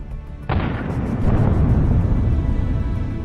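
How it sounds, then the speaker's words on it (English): A tank retreating through a dense minefield triggers mine blasts: a sudden loud explosion bursts in, then a sustained heavy rumble of further detonations and debris rolls on, dense and roaring with no voices. "There were as many as 5 explosions."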